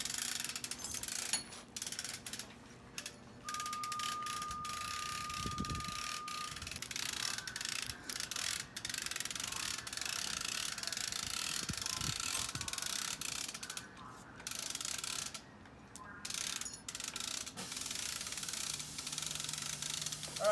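Ratchet wheel of a come-along system 7001 being turned by hand, a run of metallic pawl clicks and gear ticks with brief pauses between strokes, close and moderately quiet, with no talking.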